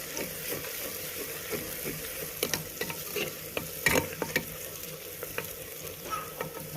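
Ginger and garlic stirred as they fry in a pan for beef biryani: a steady close sizzle with repeated scraping and clinking stir strokes, no voices.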